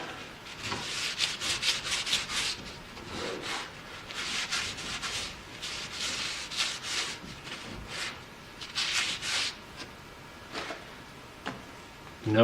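A blue rag rubs hard over a greasy part on a 1948 Chevrolet in a shop, giving repeated scrubbing swipes in uneven bursts, close and fairly loud, with no talking.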